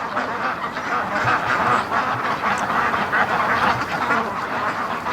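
A flock of Muscovy ducks on a swampy lake gives a dense, continuous chorus of quacks and calls, fairly near and steady throughout with no talk.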